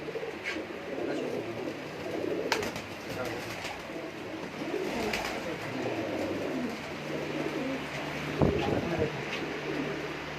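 Pigeons kept by a breeder in Sheikhupura coo softly in low, throaty bursts amid background chatter and handling noises, with people talking nearby.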